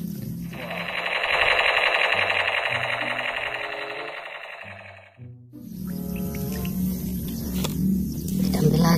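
A toy gun fires a buzzing electronic burst of rapid shots for several seconds, followed by a clatter of plastic toy sounds and further electronic effects, close and loud.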